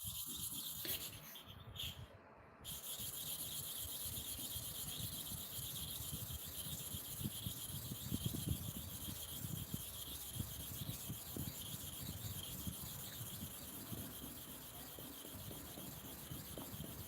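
Barber clipper blades are sharpened by hand against a stone, giving a steady, continuous gritty rubbing and scraping that goes on without a break, close and fairly quiet with no speech.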